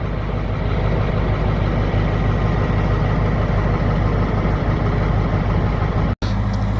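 A CAT 3208T diesel in a medium-duty truck idles steadily, a low, even rumble running unbroken and fairly close for several seconds before a brief dropout near the end.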